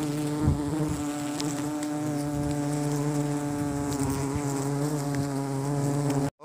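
A swarm of bees buzzes densely around a bamboo trap holding honey, a close, steady droning hum with layered tones and occasional louder passes of individual bees, continuing without pause until an abrupt cut.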